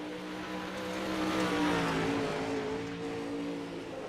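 A Pro Late Model race car laps Eldora in a racing video game, its engine a steady droning roar that swells and eases slightly, heard alone at moderate volume.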